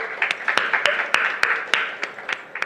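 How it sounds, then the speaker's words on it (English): Applause at a book release welcoming a co-author, a modest crowd clapping in sharp, uneven bursts, close and steady for a few seconds with no voices over it. "Srimati V.G. Bhuma, with a round of applause."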